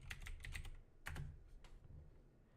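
Fast bursts of typing on a computer keyboard, quick clustered key clicks with short pauses, close and fairly quiet.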